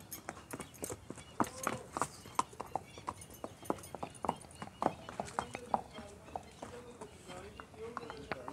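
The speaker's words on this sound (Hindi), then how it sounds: "घोड़े की सवारी चेक कर लो" Horse hooves clip-clop in a steady, uneven rhythm as a beautiful Panch Kalyan horse is ridden at a horse show, fairly close and clear, with occasional voices talking over the hoofbeats.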